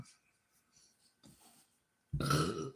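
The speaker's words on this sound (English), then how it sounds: "That burping shit, bro." A loud, guttural burp bursts out at the end, close and low-pitched, following quieter breathy sounds and faint talk.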